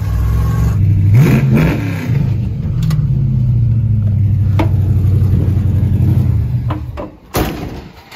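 A car engine revs up sharply, then settles into a rough, steady rumble at close range before cutting off, followed by a single thump.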